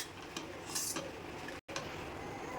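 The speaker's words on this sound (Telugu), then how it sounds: "అవన్నీ వేసి బాగా మిక్స్ అయ్యేలా కలుపుకోవాలి" A spoon stirs and scrapes paneer butter masala curry in a pan, with soft metallic clinks. The sound is quiet and close, and there is no talking.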